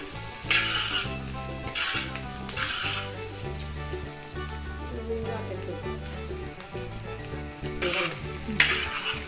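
Beef kondattam sizzles steadily in a pan while being stirred, with scraping strokes and bursts of crackling over prominent background music.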